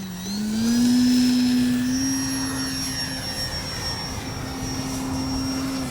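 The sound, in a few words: E-flite Timber RC airplane flying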